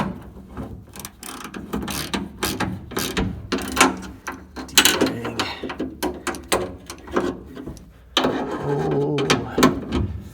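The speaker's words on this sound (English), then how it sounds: "Now we should be able to crank down the other one." A ratchet is cranked down in quick bursts of sharp clicking, with short pauses between strokes and a rougher mechanical grinding near the end, close and fairly loud.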